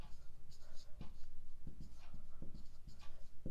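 Chalk or marker writing on a classroom board during a lens and image-formation lesson, quick scratchy taps and strokes in an irregular rhythm, close and fairly faint, with a teacher talking softly around them.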